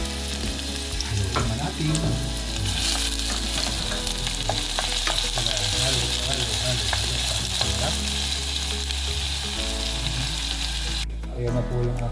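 Pasta misto with squid is stirred in a frying pan, giving a loud, continuous sizzle with scraping and clinking stirs throughout, while a voice speaks briefly.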